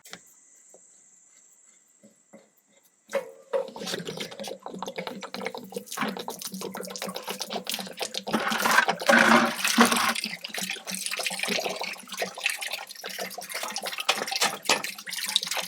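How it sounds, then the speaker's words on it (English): After a quiet start, about 6 gallons of water suddenly gush out of a travel trailer's water heater, draining in a loud, steady, splashy rush that grows slightly stronger. "it is going to spill out about 6 gallons of water"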